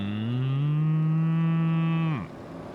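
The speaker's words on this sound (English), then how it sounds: "We'll do some moo cows." A cow in Farming Simulator 25 lets out one loud, sustained moo that holds steady before dropping off abruptly, leaving faint background.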